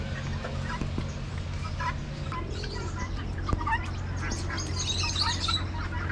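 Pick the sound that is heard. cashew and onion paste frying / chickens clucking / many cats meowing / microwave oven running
chickens clucking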